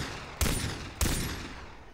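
Two sharp gunshots from a Minecraft-style video game, fired at a bird in the sky, spaced about half a second apart, each with a short decaying tail, loud and close with no talking.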